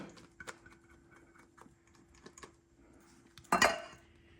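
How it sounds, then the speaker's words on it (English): A utensil scrapes heavy cream from one bowl into another: soft, scattered clicks and taps against the bowl, then one louder, sharp scrape-clatter near the end, with no talk. "I will scrape our heavy cream right out of here into our other bowl"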